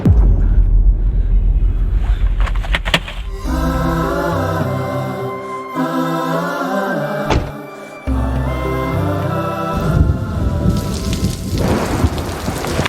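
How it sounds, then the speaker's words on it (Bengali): Heavy rain begins to pour with a loud, steady hiss that runs through the whole scene. Dramatic background music plays over it, and a burst of thunder comes near the end. "বৃষ্টি শুরু হয়ে গেল"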